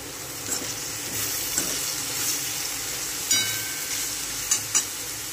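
Cowpea pods being stirred in a pan of stir-fry with salt just added, giving a steady soft sizzle and a few louder scraping clacks of the spoon against the pan, with no talking.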